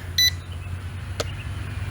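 Warning beeps from a K21 Max toy drone: a short electronic bleep near the start and another brief tone about a second later, faint over steady low background noise, with no talking.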